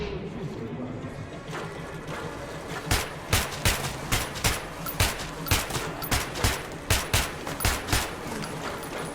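A gun in the video game Metro Redux fires a series of loud, evenly spaced shots in a steady rhythm over a background drone, with a player speaking quietly.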